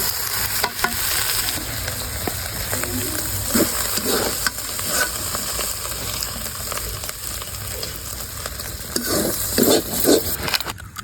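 Leafy greens are stir-fried in a pan, a continuous close sizzle with rustling, scraping stirs and occasional clanks of a utensil, growing busier near the end.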